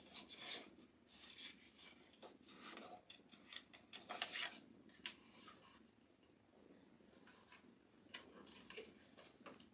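Scissors cutting out paper craft pieces for a fall scarecrow decoration, repeated quiet snips and rustling rasps in uneven bursts, close and faint.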